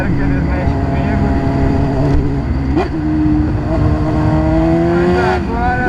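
A Honda Hornet motorcycle rumbles loudly through the town centre of Joinville, its engine note rising and falling in revs, with people talking over it.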